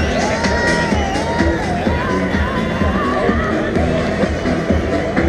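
Crowd at an outdoor tractor pulling event cheering and applauding, with dense clapping, whoops and shouts, loud and close, and a voice over the public address system talking under the noise.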